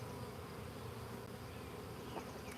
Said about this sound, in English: This is definitely a good amount of bees in here.